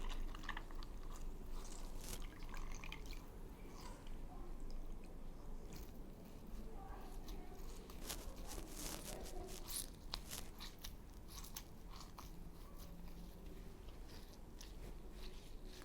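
Wet leather wrung out by hand for covering a button, giving close, continuous squelching and crunchy squeezing with drips, steady throughout and no talking.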